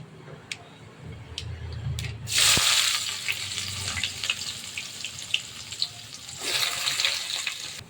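Chopped onions drop into hot oil already crackling with mustard seeds and lentils, setting off a loud hissing sizzle that eases and then flares again, close by.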